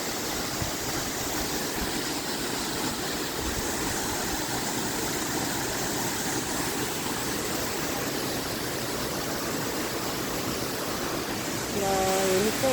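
Waterfall by a bridge rushing as a steady, dense roar of falling water, loud and continuous throughout, with a brief faint voice near the end.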